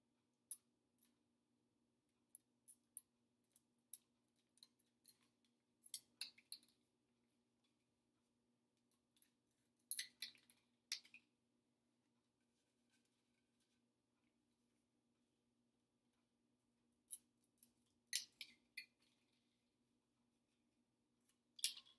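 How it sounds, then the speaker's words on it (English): Scissors snip through plastic drinking straws for a maze craft, giving sparse, sharp close-up clicks in small bursts with quiet pauses between cuts. "take your scissors and the straws and cut them"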